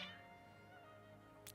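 Cats meowing in the video game Honkai Star Rail, a single faint meow at the start fading under a steady musical backdrop, followed by a brief soft noise burst near the end.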